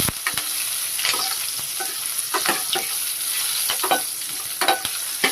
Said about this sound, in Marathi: ह्या लसूणच्या पाकळ्या त्या पण घालते आणि इथे कढीपत्ता घालून घेतलाय